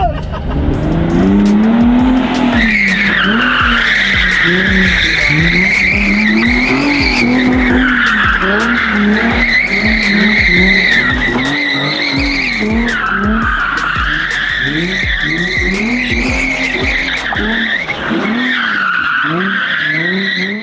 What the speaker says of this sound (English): this thing's almost like too easy to drift where it just like whips out on you right away